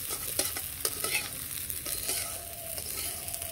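Raw rice frying in a pan in a home kitchen crackles with a soft sizzle while a spoon scrapes and stirs it in quick, close strokes.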